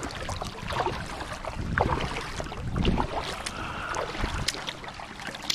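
A kayak is back-paddled while trolling for fish on the Chickahominy River in autumn, with close paddle strokes, splashes and water swirling in an irregular rhythm and no talking.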